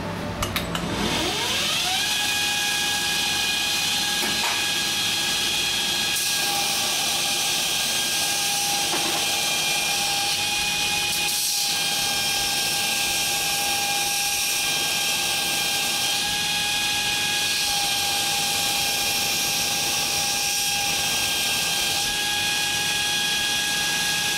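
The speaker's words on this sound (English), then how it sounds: "I'm going to go on a 60 grit belt here and grind them to a uniform size" A belt grinder running a 60 grit belt grinds a clamped stack of knife blades to uniform size: a loud, steady motor whine that spins up in the first seconds, then holds a continuous, close, droning tone.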